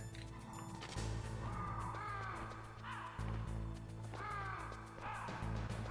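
Crows cawing in the PS1 game Metal Gear Solid, a few harsh repeated caws at moderate distance over a low mechanical hum and faint creaking.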